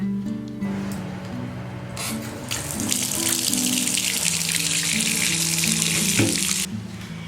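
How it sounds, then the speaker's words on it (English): Running water pours from a tap into a bathtub, a loud steady rushing hiss that starts partway through and persists, heard close alongside some low background sounds. "So while the bath's running"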